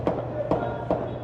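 Three sharp gunshots in quick succession during an early-morning shootout, evenly spaced about half a second apart, over a low background rumble.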